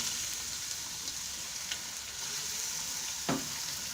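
Chicken pieces frying in a pan for pasta, a steady close hiss of sizzling oil with a few faint stirring clicks and one brief knock near the end.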